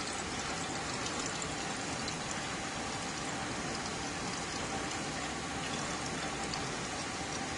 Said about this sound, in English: I'm going to pour it back in and see if we can't extract that last little bit of iodine out of the water.